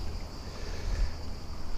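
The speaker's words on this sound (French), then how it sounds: "Et là on est en Mistral." Strong Mistral wind blowing by the sea just outside a port, a steady rushing roar with low buffeting gusts battering the microphone throughout, no voices.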